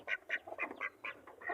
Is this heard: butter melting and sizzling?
no